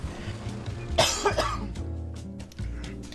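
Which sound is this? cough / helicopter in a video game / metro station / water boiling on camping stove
cough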